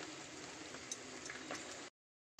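Vada curry gravy simmers and bubbles in a pot, a faint, steady, close bubbling hiss with small pops, cutting off abruptly near the end.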